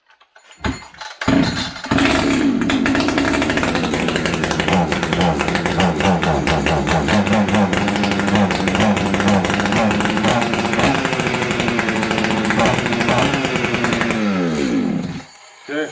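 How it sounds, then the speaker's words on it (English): An Echo CS590 chainsaw that is hard to start and starved for fuel is held at full throttle and runs boggy, a loud, close, sustained engine roar that wavers slightly before cutting out. "This saw, it's having a hard time starting. It will idle once it starts, but when I give it full throttle, it's boggy."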